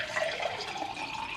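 Filtered room-temperature water runs steadily from a dispenser into a pitcher in a cosy English countryside home, a continuous close trickle and splash with no one talking.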